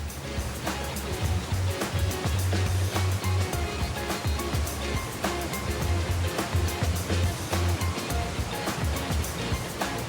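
A constant roar of rushing, crashing water from the 423-metre Grande Cascade of Gavarnie in the Pyrenees fills the whole stretch, loud and unbroken.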